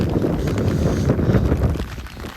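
Strong wind buffets the microphone in a steady, heavy roar of gusty noise throughout, with no voices, on a street in Italy during heavy rain.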